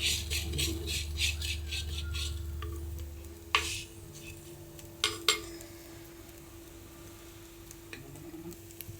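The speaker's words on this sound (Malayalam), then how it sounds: "ഇതിലോട്ട് ഒരു 2 സ്പൂൺ മല്ലിപ്പൊടി ചേർത്തിട്ടുണ്ട്. പാകത്തിന് ഉപ്പ് ചേർത്ത് നല്ലതുപോലെ ഒന്ന് ഇളക്കി കൊടുക്കാം" Coriander powder and salt are stirred in a hot clay pot with a spoon. A soft sizzle runs underneath, and a few sharp scraping clinks stand out at intervals over a low steady background hum.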